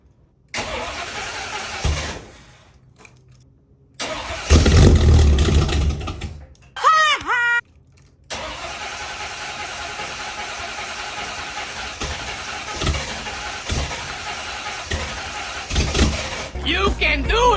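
A Chevrolet El Camino in chilly weather cranks in short bursts, stalls, then catches and settles into a steady close idle with occasional revs, with a brief voice heard in between.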